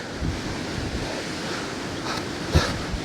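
Strong wind buffets the microphone while surf washes steadily on the Dorset coast during Storm Darragh, a continuous broadband roar with a brief louder gust or wave burst near the end.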